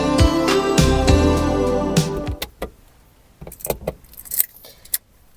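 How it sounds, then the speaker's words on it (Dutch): A bunch of car keys jangles loudly up close in bright, shimmering rattles for about two seconds, followed by a few lighter clinks and small handling taps as they settle. "En om auto te rijden heb jij natuurlijk een autosleutel nodig."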